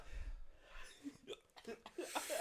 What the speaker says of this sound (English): have the actual hiccups